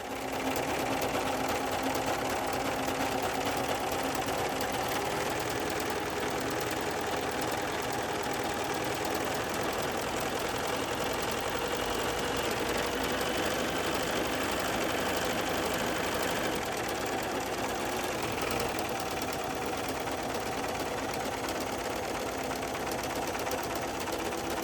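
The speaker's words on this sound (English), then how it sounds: "we are ready to sew with the classic overlock finish stitch" A Veritas Elastica II overlock serger runs an overlock finish stitch with a continuous, loud, even mechanical whir and rapid stitching chatter, steady for the whole stretch.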